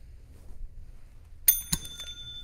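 A contestant's bell rings out during a cast quiz game, two sharp metallic dings about a quarter second apart against a quiet background.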